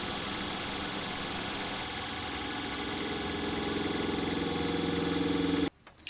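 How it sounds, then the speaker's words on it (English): Caravan water pump running steadily without building pressure or cutting out, a continuous mechanical hum and buzz with a rhythmic pulsing that grows slightly louder before stopping abruptly near the end. "It shouldn't be making this noise, and the pump should have built up the pressure and cut out by now."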